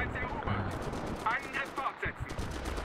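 Bursts of machine gun fire ring out in the World War II shooter Enlisted, rattling in several short volleys while players talk over them.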